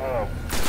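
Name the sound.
gunfire from the video game Destiny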